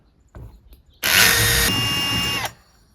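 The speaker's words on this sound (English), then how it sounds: "let's drill it in" Hole saw on a power drill cutting into a 500-gallon plastic rain tank, a loud whirring bite lasting about a second and a half, shifting pitch midway before stopping abruptly, with faint knocks just before.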